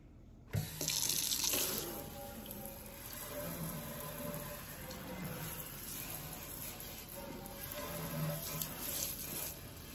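A kitchen tap gushes into a sink to rinse something clean: a sudden splashing start, then a steady, continuous stream of running water with slight shifts in tone as items move under it.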